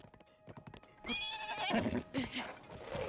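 A horse neighs loudly in The Legend of Zelda: Tears of the Kingdom, a long whinny that follows a quick run of clip-clopping hooves and is joined by a voice talking.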